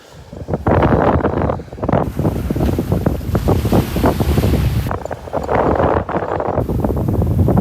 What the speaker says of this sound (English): Oh, here comes the wind again.